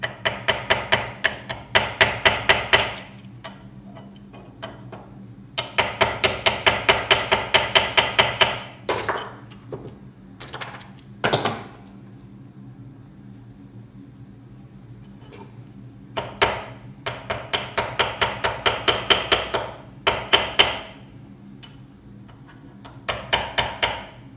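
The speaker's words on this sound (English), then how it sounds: "then I can set the rivet with hammer" Rapid hammer blows setting a rivet on a hand-forged Viking pendant in a blacksmith's workshop, delivered in several quick bursts of sharp metallic taps separated by short pauses, close and crisp with no talking.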